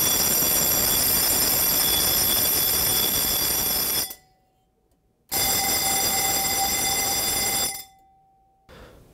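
A fire alarm main bell rings loudly and continuously for about four seconds, stops, rings again for several seconds, then starts briefly once more, with near silence in the gaps.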